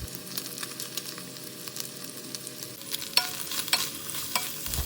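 Chicken thigh pieces with carrots and green beans stir-frying in a pan for pancit bihon, a soft steady sizzle broken by sharp scraping and clinking strokes of a utensil, louder toward the end.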